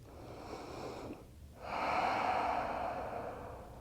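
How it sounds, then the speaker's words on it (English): Slow breathing during a vinyasa yoga flow, a close audible exhale, a brief pause, then a longer, stronger breath. "Breathe."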